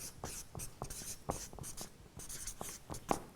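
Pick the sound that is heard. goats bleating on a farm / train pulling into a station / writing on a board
writing on a board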